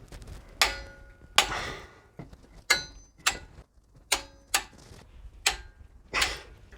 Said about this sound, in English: Once you've finished torquing up the 4 bolts at this end, we'll move on to the other end.